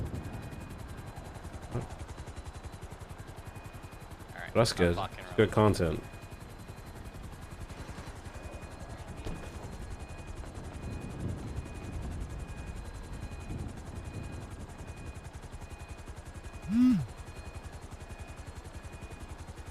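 A steady low mechanical drone of a helicopter in GTA hums throughout, with a few brief sharp bursts and occasional voices speaking over it.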